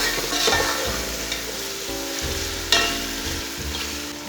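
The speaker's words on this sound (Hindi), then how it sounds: "2 टमाटर, इसे 2 मिनट तक फ्राई कर लेंगे।" Tomatoes and green chillies fry for beef pulao with a steady, close sizzle and occasional stirring scrapes of a spoon.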